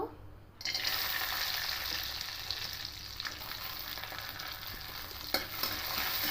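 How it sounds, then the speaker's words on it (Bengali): Cashews fry in ghee while being stirred: after a moment of quiet, a soft, steady sizzle begins, with scraping stir strokes and a few sharper clicks of the spoon against the pan. "প্রথমে ঘিয়েতে কাজু আর কিশমিশটাকে হালকা করে ভেজে নেব"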